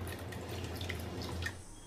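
A third of a cup of water is poured from a mixer jar into spinach paste in a pan, making a faint, continuous trickling and splashing sound.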